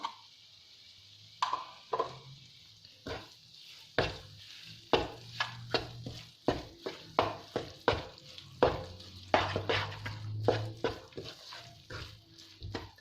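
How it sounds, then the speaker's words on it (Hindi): Gram flour cooking in a cup of ghee for besan halwa, with a steady soft sizzle and bubbling under repeated scraping strokes of a spoon against the pan, close and moderately loud. "इसमें भूनते टाइम इस तरीके से बबल्स आने शुरू हो जाएं"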